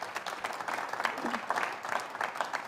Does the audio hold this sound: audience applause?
yes